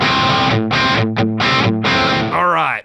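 Distorted electric guitar through a Fractal FM3 amp and cab model with a classic rock tone, playing four loud chugging chords with short gaps and then a bending, fading lead phrase, close and alone.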